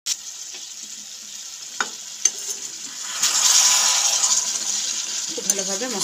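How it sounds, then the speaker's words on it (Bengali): Mixed vegetables and capsicum stir-frying in spice masala for navratan korma hiss and sizzle steadily in the pan, with a few sharp scrapes and clinks from the spoon and a rise in sizzling midway, a brief voice near the end. "খুব ভালোভাবে মশলার সাথে সবজিগুলো হালকা হাতে কষিয়ে নিতে হবে"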